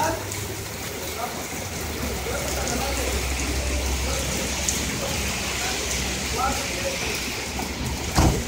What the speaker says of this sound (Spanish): Esta lluvia se desató todo el aire totalmente.